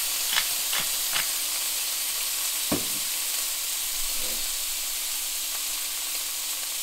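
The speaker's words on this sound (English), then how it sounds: "you just need to transfer the steak to the pan" Grass-fed beef steak, salted, laid into a very hot pan, giving a steady close hiss of frying with a few soft crackles and pops scattered through; no one talks.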